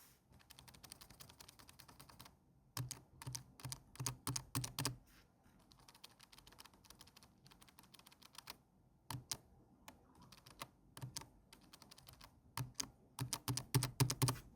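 Quiet, soft typing on a Keychron B36 scissor-switch keyboard in irregular bursts of light clicks, with short pauses between runs of keystrokes.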